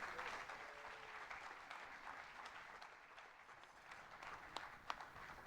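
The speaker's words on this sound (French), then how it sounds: "je vous invite à applaudir et à encourager nos trois baptisés" A church congregation applauds three baptism candidates at a Sunday service, with moderate, even clapping from a mid-sized crowd and a few sharper individual claps standing out near the end.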